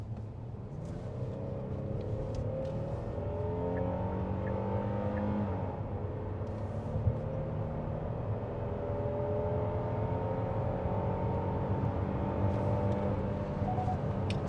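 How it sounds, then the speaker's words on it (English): Steady engine drone and road rumble inside a Chrysler Pacifica or Hyundai Palisade under acceleration, with rising harmonic tones as the minivan or SUV gains speed, continuous and moderately quiet with no talking. "so let's do this acceleration and sound test."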